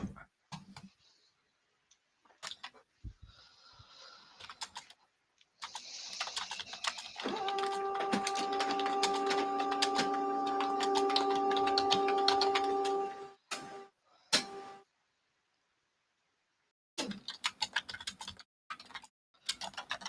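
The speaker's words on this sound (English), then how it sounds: "What is that noise I keep hearing? A printer." A printer running for several seconds, a steady mechanical whir with tonal hum and rhythmic ticking, set among light keyboard clicks and intermittent talk.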